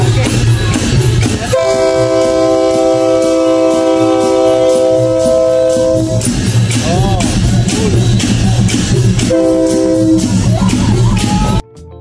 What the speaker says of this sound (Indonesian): Akhirnya kereta kami pun tiba dan saatnya untuk naik ke kereta